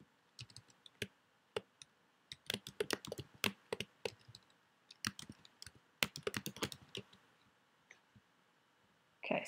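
Rapid, uneven typing on a computer keyboard, crisp individual key clicks in bursts with short pauses, close and clear with no talking.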